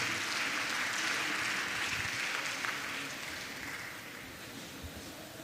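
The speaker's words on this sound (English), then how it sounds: "Please, a round of applause for him." An audience applauds at a Nigerian Bar Association women's forum during the 2025 annual general conference. The clapping is a steady, dense wash that gradually tapers off.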